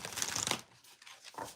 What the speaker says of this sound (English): I'm going to pull a few cards for Aqua Beauty